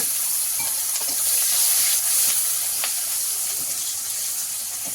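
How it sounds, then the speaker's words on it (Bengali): Chopped onions frying in oil with dried red chillies for an egg dopiaza, a steady close hiss and crackle with faint stirring clicks throughout. "পেঁয়াজগুলো আমার লাল লাল করে ভাজা হয়ে গেছে"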